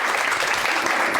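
A church congregation applauds at a Sunday worship service, a dense, loud burst of many hands clapping together.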